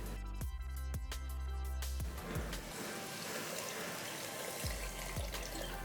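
Water is poured into a pan of sautéed curry, giving a faint, short splash and trickle with a few soft knocks at the start.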